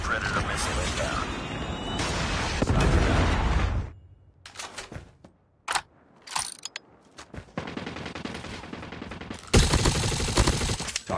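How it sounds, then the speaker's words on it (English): Call of Duty Mobile gunfight: bursts of loud automatic gunfire and blasts in the opening seconds, then scattered sharp shots and mechanical clicks, with in-game voice callouts mixed in. "Friendly predator missile inbound."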